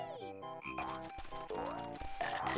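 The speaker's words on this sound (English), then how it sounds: "These frogs actually give double HP when you bite them down." Cartoonish frog croaks in Banjo-Kazooie, a string of bouncy, pitched ribbits layered over game music, fairly quiet and with no talking.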